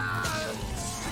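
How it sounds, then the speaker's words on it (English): A Drakengard 3 character lets out a short, loud yell, a strained battle cry or scream lasting about a second over game background sound. "Is that a battle cry or a scream for help?"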